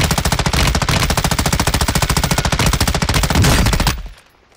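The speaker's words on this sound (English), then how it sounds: "Yeah, they're shooting." Rapid automatic gunfire bursts nonstop in the shooter game Warzone 2 on the Al Mazrah map, loud and close for about four seconds before cutting off abruptly.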